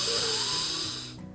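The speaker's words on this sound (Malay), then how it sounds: "Cuba tarik nafas." A person draws one long, deep, airy breath in, close and fairly loud, tapering off at the end.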